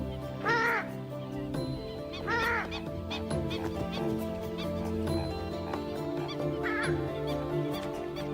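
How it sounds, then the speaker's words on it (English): Loud, harsh honking calls from a purple swamphen ring out repeatedly over a busy background of other birds and ambient noise. "This is the purple swamp hen, also called the sultana bird, famed for its very loud"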